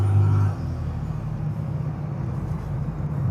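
A 2007 Dodge Ram truck drives at low speed, its engine a steady close rumble with a brief higher whine at the start that drops away as the transmission shifts.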